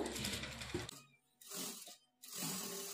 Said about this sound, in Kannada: ಎರಡೂ ಪಾರ್ಟ್ನ ಈಕ್ವಲ್ಲಾಗಿ ಇಟ್ಕೊಂಡು 1/2 ಇಂಚ್ ಮಾರ್ಜಿನ್ಗೆ ಸ್ಟಿಚ್ ಮಾಡ್ಕೊಳ್ಬೇಕು